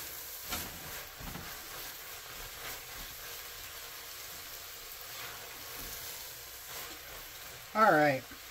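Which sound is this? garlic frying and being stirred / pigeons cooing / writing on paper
garlic frying and being stirred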